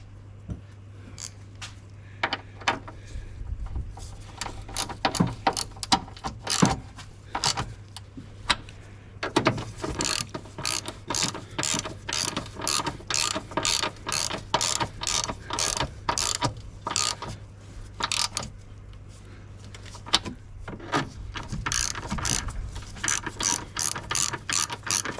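Ratchet wrench tightening 14 mm bolts on a Honda Civic front spring assembly, a long run of rapid close clicking bursts with short pauses between strokes, steady and fairly loud with a low hum underneath.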